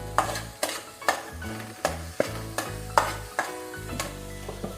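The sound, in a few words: tomato puree added to fried onions, sizzling in oil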